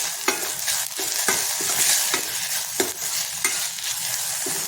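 Chopped kitchen-garden vegetables with turmeric sizzle steadily in a hot pan, with periodic sharp scrapes and stirs of a spatula cutting through the continuous frying hiss.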